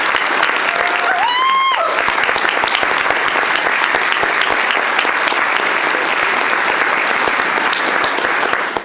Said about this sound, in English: let's give them a round of applause and thank them for their decades of service